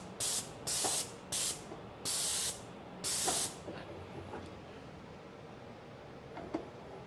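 A Graco 490 XT airless paint sprayer with a 210 tip, running on high pressure around 1,500 psi, gives five sharp hissing bursts of spray over the first few seconds, then falls quiet against a faint background.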